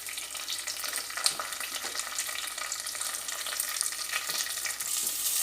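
Onions frying in a pan for marwai, a Tulu-style clam dish, giving a soft continuous sizzle with light stirring scrapes, close but fairly quiet, with no speech.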